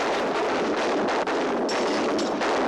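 A sustained barrage of gunshots in an outdoor Western adventure skirmish, a continuous loud roar of overlapping reports with no pauses and no voices.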